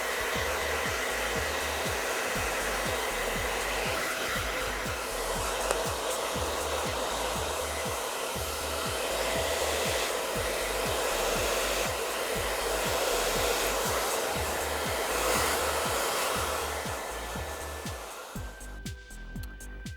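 A hair dryer blow-drying hair during a salon haircut, running as a loud, close, continuous whoosh with a fluttering pulse as the airflow moves through the hair, and cutting off near the end.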